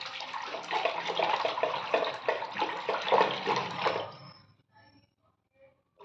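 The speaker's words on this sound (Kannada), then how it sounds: "ಈಗ ಅದಕ್ಕೆ ನೀರು ಹಾಕ್ಕೊಂಡೇನಿ ನೋಡಿರಿ." Water pours into spiced masala buttermilk in a vessel, a steady splashing gush for about four seconds that then stops and leaves only faint drips and quiet.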